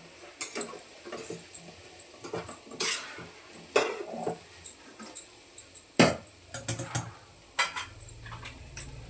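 Noodles being stirred in a pan: clinking and scraping of a utensil against cookware in uneven bursts, moderately close, with no talking.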